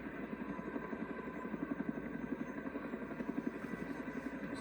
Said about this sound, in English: A supply chopper.